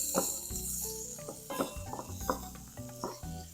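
Diced ham browning in a pan for Puerto Rican stewed beans, a low sizzle broken by repeated clinks and scrapes of a utensil stirring against the pan, close and without talking.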